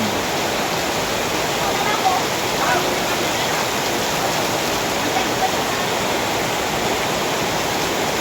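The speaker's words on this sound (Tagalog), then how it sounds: "Ang ulan, napakalakas." Heavy rain pours down in a loud, dense roar that continues unbroken from start to finish.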